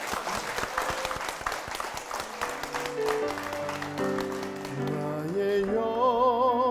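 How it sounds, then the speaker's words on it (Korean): Congregation at a church service in Yonghyeon-dong applauding vigorously, dense clapping throughout while a sustained organ or keyboard chord line swells underneath and grows in the second half, with no talking over it. "우리 축복하는 마음으로 힘차게 박수 부탁드립니다."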